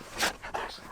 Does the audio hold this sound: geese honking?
no